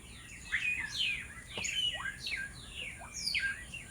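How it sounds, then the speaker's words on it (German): Several birds sing and chirp in the evening in quick, overlapping bursts of bright whistled notes, moderately near, against a faint steady background hiss. "Hört euch mal dieses grandiose Vogelkonzert an."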